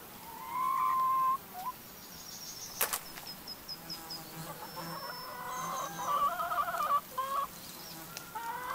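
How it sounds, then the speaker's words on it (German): Brown and black chickens cluck and murmur intermittently at a moderate distance, with buzzing insects droning in the background and no one speaking. "Wir haben braune und schwarze Hühner."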